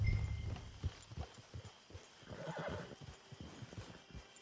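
A horse whinnies while hooves clop in an uneven, walking rhythm in Red Dead Redemption 2 Online, close and clear with no talking.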